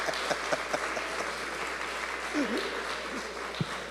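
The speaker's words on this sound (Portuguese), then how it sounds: "Uma salva de palmas aí," A church audience at an evangelical gathering claps, a steady patter of applause with a few louder claps. Brief voices are heard over it.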